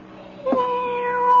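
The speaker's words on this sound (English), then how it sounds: "All that meowing." A single cat meow rings out clearly against a quiet room backdrop, staged as a radio drama sound effect, with a faint tonal hum continuing after it.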